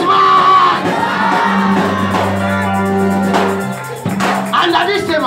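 A church congregation at a Friday evening prophetic service shouts and whoops together, a loud continuous mass of voices over sustained organ or keyboard tones, swelling and dipping briefly near the four-second mark.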